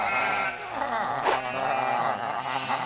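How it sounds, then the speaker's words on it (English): Cartoon sheep bleat in a field, a continuous wavering chorus of nasal bleats with overlapping calls filling the whole stretch, fairly loud and close. "Oh no! Sheep!"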